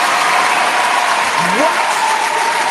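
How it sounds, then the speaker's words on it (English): Applause in a mixshow broadcast setting, a continuous wash of clapping at steady loudness with a brief voice-like pitch sweep in the middle. "That's a round of applause for Moose and Crawfish."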